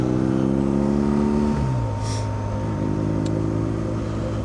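BMW R nineT Urban GS motorcycle riding near Lake Coniston in the Lake District: a steady engine drone whose pitch drops as it shifts gear, then holds at a lower hum, heard close over wind noise.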